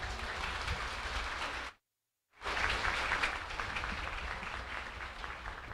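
Audience applause at the opening night of the Beata Lindalva festival in Assú, a dense, steady wash of clapping that cuts out briefly and resumes at full strength.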